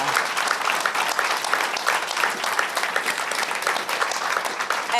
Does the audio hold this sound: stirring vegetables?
no